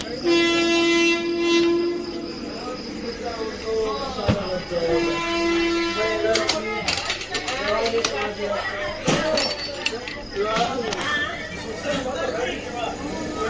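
A goods train rumbles past close by with a long horn blast at the start and another later, wheels clattering steadily while people chatter nearby.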